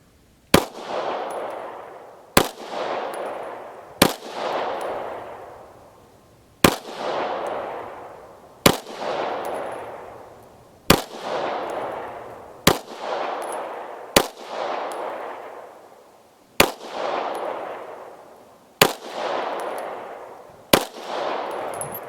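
Ten sharp 9mm shots from an FMK 9C1 G2 pistol loaded with Light Strike cartridges, fired one at a time about two seconds apart. Each loud crack is followed by a short echoing tail.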